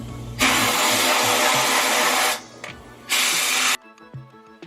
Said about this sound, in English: So let's sandblast real quick.